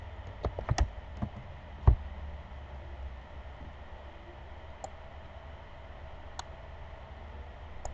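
Typing the history command on a computer keyboard: a short cluster of crisp key clicks near the start, then a few sparse clicks over a quiet room hiss.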